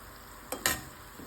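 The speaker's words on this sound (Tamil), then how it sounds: "வேக வச்சு எடுத்துருந்த மினி இட்லியை இதில் சேர்த்துக்கிறேன்" Mini idlis are stirred into masala in a pan over low flame, giving two quick scraping, sizzling bursts close by, then a faint stir at the end; no one speaks.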